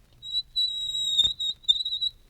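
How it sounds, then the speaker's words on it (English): Fingernails drawn across a glass window pane at medium volume give a thin, steady, high squeal in two or three strokes with brief pauses, close up over a faint low rumble. "Nails on the window pane. Medium."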